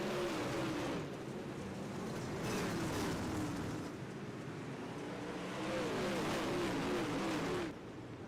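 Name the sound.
late model race cars racing at Federated Auto Parts Raceway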